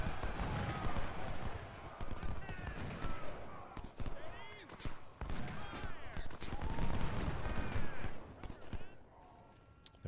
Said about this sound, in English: There's some of the artillery.